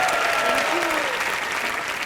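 Studio audience applause on a TV comedy show, a steady, dense wash of clapping that fills the whole moment at an even loudness, with faint voices mixed into the crowd.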